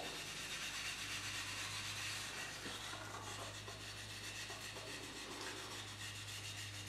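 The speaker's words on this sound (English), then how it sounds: "Then what you want to do is burnish it with the 4-aught steel wool." Fine 0000 steel wool burnishing a turned walnut wood bowl, a soft, steady rubbing hiss close by with a low constant hum underneath and no talking.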